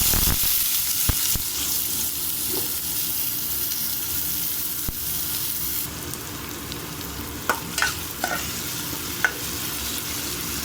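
Chopped onion and green chilli fry in hot oil with a continuous close sizzle, while a few sharp clinks from stirring utensils punctuate the later part.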